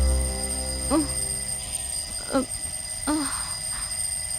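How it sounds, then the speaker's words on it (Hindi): In a horror film, an alarm clock sounds over a steady electronic hum as three separate chirping bursts, spaced about a second apart. "अलार्म बज रहा है।"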